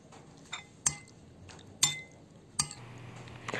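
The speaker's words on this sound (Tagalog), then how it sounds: "At haluin natin ito ng mabuti." Chicken stir-fry with calamansi juice is stirred in a pan, giving four or five sharp metallic clinks of a utensil against the pan spaced about a second apart over a faint background, with no talking.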